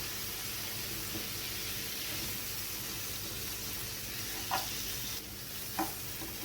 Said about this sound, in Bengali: মশলার সঙ্গে ভালোভাবে মিশিয়ে নেব।